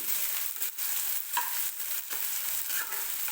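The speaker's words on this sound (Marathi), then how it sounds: "कांद्यासोबतच मिरचीसुद्धा व्यवस्थित भाजली जाईल हे बघा लसणाचा रंगसुद्धा चेंज झालेला आहे" Onion, green chili and garlic fry in a pan for cabbage bhaji, giving a steady, close hiss of sizzling oil broken by a few soft stirring strokes, with no voices.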